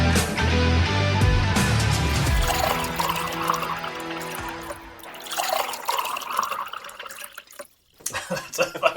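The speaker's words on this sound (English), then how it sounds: "That's a fucking healthy pour." Liquid is poured generously into a glass, a steady gurgling fill that runs for several seconds, loud and close, then tapers into faint drips and clinks.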